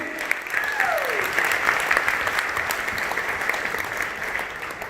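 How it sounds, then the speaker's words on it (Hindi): A crowd at a business event in India gives loud sustained applause, a dense wash of clapping hands heard from within the audience, with faint voices and a brief whoop under it. "एक बार जोरदार तालियां अपने लिए"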